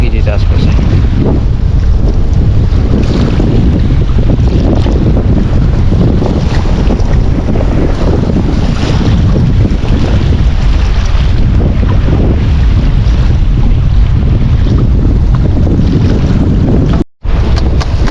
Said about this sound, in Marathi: वारा पण जास्त आहे आज